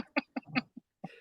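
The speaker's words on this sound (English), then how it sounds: "That shit come out like a smoker's cough." A dry, rasping smoker's cough comes as a quick series of four or five harsh bursts up close, followed by a breathy hack.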